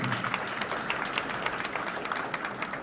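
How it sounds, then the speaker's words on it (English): Ceremony audience applause at a university event, a steady patter of many hands clapping with distinct sharp claps standing out, at moderate level and without talk. "So have a large applause for your family and your children, your parents."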